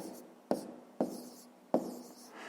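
Pen strokes writing down a numerical answer on paper, three sharp taps of the pen hitting the surface at even intervals with faint scratching between, close and quiet, with no talk.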